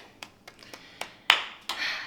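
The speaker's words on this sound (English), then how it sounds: "Round of applause." Hands clap in a short, irregular series of about seven sharp claps, close and fairly loud, in a quiet room.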